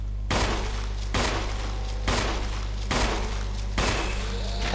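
Gunfire in the Resident Evil HD video game as Jill: five loud, heavy shots at roughly one-second intervals, each with a short reverberant tail over a constant low game hum.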